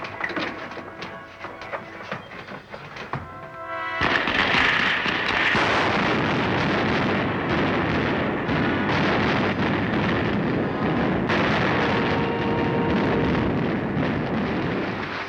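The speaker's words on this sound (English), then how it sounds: "Fire the starting rockets." Spaceship starting rockets fire in a 1939 film serial sound effect, opening as a thin hiss, then bursting into a loud, sustained roaring rush that fills the rest of the scene.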